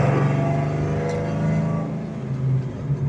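A 2004 Ford Mustang Mach 1 engine with 4.10 gears, droning steadily from inside the car while cruising in fifth gear, with a slight swell in revs toward the end and no talking.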